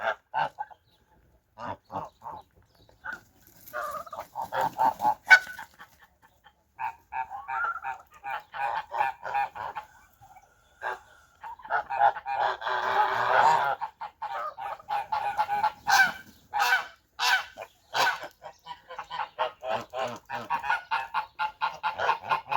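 Geese honk repeatedly on a frosty -20 degree winter morning, bursts of nasal calls from several birds overlapping in uneven flurries, close and fairly loud with short quiet gaps between.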